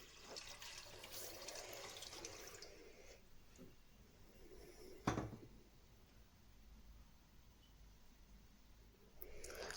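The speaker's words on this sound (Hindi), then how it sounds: "हमें एक पॉट चाहिए और इसमें जो है हम 3 से 4 कप जो है पानी डालेंगे।" Water running and splashing into a cooking pot as it is filled for boiling pasta, a steady broadband pour lasting most of the clip with a brief louder splash midway and no talk.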